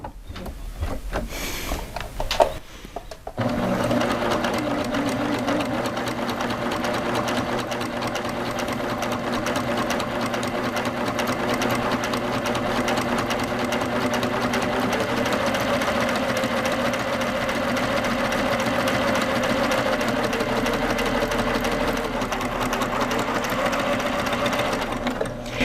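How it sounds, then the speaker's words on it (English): A Baby Lock sewing machine stitches along the edge of a belt loop, a steady, even mechanical whir running continuously for over twenty seconds after a few brief handling sounds at the start. "I'm just going to stitch on the edge of it."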